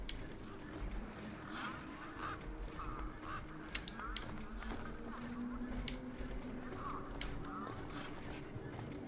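Geese honk repeatedly in the video game Beyond a Steel Sky, moderately near and layered over steady background ambience, with a few sharp clicks along the way.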